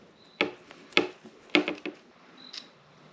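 Front brake fluid reservoir cap on a sportbike being worked loose with a tool, a few sharp close clicks and taps in uneven succession over a quiet background.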